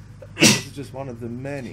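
A single sharp sneeze bursts out during a conversation in the Disco Elysium video game, quickly followed by a voice continuing to talk.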